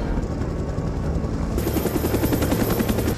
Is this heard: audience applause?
no